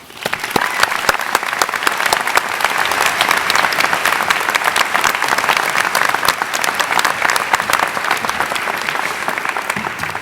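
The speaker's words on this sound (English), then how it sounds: "So I just ask we all give him another round of applause" A large audience at a university osteopathic medicine hooding ceremony gives sustained, dense applause that stays loud and steady for the whole stretch, with no voices standing out.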